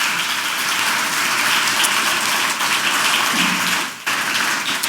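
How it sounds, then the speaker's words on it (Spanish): A church congregation applauding loudly and continuously, a dense roar of many hands clapping that fills the room without a break for several seconds. "Dale un aplauso fuerte al Espíritu Santo,"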